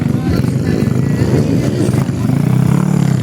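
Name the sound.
motocross motorcycle engine revving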